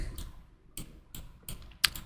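Several separate keystrokes on a computer keyboard in a quiet room, entering a short number, with a sharper final tap like the enter key.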